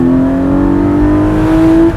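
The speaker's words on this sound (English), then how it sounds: "I'm gonna go a little slower and downshift into first" A 2020 Porsche 718 Boxster Spyder downshifts into first gear mid-drive, its engine a loud, close, sustained drone whose pitch climbs slightly and evenly.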